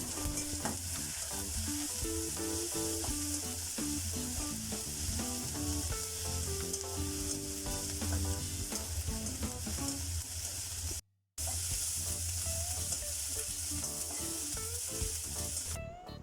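Ginger and cumin paste frying in a pan for snakehead fish, a constant sizzle with stirring, partly covered by background music and a brief dropout partway through.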